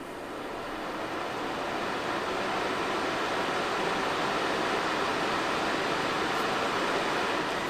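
Levoit Core 300 air purifier fan running on its medium setting, a steady broadband whoosh of moving air at moderate level, smooth and unbroken throughout with no voices.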